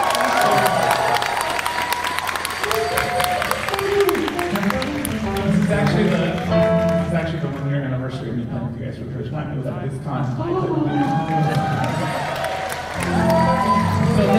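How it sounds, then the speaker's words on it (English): A live-show audience cheers, claps and shouts for a band member at a stage performance, a dense crowd roar mixed with loud voices and music throughout. "Please give a huge round of applause for Tonya."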